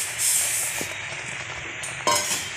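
Hot oil sizzles steadily as sesame til chakki fries in a pan, a close continuous hiss with a few soft stirring scrapes and a brief louder crackle near the end.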